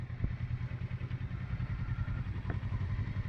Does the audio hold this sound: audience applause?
no